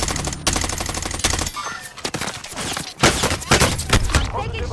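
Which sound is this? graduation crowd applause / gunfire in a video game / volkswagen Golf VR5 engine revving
gunfire in a video game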